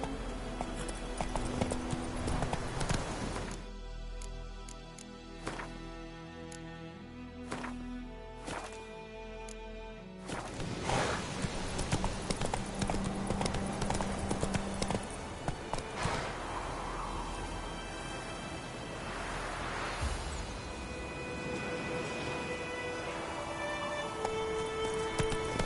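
Horse hooves gallop in The Witcher 3 video game, a steady rapid clip-clop rhythm running throughout at moderate loudness beneath music and ambient game sound, with no talking.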